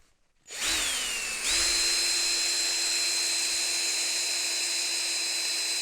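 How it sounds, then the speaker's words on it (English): A power drill spinning a stick starts up and whines steadily at high speed, briefly stepping up in pitch, then running continuously and loudly with no talking. "just put stick in the power drill and start drilling."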